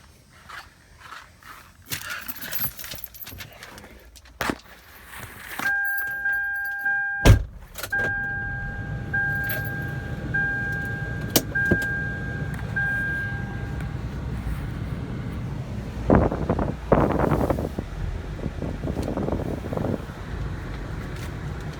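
A Toyota 4Runner with a five-speed manual transmission is driven on a road, with a steady engine and road rumble throughout and louder bursts of wind and road noise near the end.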